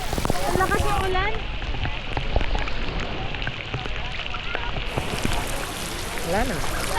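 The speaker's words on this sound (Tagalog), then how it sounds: "Ang lakas ng ulan." Heavy rain pours down as a constant loud hiss, with people talking over it.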